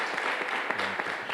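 A conference audience applauds a speaker at a clinical research and engagement gathering, a brief, fairly quiet patter of clapping heard from a distance.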